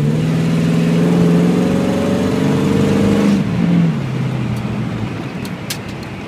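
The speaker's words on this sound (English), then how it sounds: "so you can hear the passing gear." A 1947 Chevrolet Fleetmaster Town Sedan engine revs hard in passing gear and pulls away with a rising, throaty roar, then the pitch drops as it shifts and settles into a steady drone.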